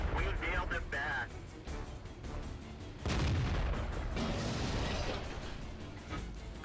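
Artillery fire hits a StuG in World of Tanks, heard as a series of booming impacts and gunfire bursts, with a heavier blast near the middle, mixed under background talk.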